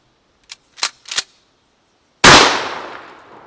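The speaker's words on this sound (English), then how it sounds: "Checking out the 12 gauge, and that was number 6. That was a number 6. Number 6 buckshot." A 12 gauge shotgun loaded with number 6 buckshot fires at a vehicle door outdoors, preceded by three short clicks and clacks of handling, then one loud close blast with a decaying echo.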